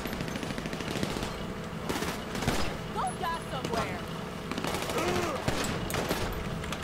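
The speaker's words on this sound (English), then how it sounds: "I'm getting repeatedly shot and I don't see from where." Sustained gunfire in GTA 5 Online, rapid automatic bursts and scattered shots rattling continuously at moderate loudness while someone talks over the combat.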